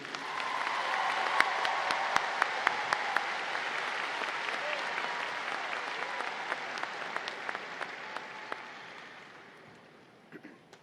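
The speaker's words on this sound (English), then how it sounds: "One last round of applause for this group." An audience applauding honor graduates at the L.D. Bell High School 2022 graduation ceremony, a dense sustained wash of clapping from a large crowd in a hall that swells, holds, then gradually fades away.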